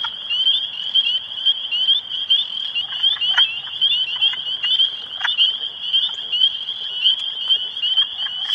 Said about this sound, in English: I don't know what that frog is, and I'm here for peepers.